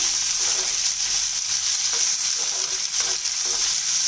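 Steady, loud sizzling of chopped shallots frying in a hot pan for a bitter gourd fry, with a constant crackling hiss throughout and no voices.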